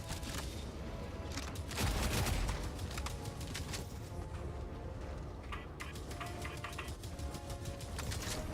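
Rapid lever-action rifle fire in Helldivers 2, loud, close shots repeating in a dense, fast string over steady background game noise, with no talking.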